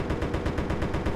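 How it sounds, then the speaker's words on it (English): Rapid automatic gunfire in the Resident Evil Raccoon City video game at an Umbrella warehouse facility, a fast, even burst of about ten shots at moderate loudness with no speech. "Sounds like gunfire."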